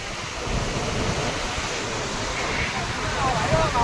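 A continuous, dense roar of rushing floodwater in the Saraswati river near Siddhpur, broad and steady like a swollen river in flood, with a faint voice briefly underneath.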